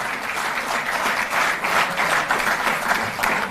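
Steady, dense applause from a crowd at a sports awards ceremony in Delhi, loud and sustained with no break, many hands clapping together with no voices over it.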